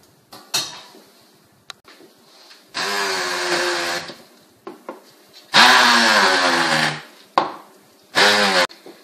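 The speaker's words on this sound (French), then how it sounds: "Donc on mixe tout ça et quand c'est un petit peu difficile, on rajoute le beurre petit à petit et on continue à mixer." An electric blender or food processor mixes chestnut cake batter in bursts of loud whirring, three long runs with short pulses and clunks between, alone without talk.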